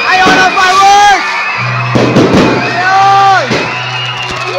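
New Year fireworks crackle and pop amid a cheering crowd after a countdown at a Christmas tree lighting, with whoops and shouting voices over a steady low hum.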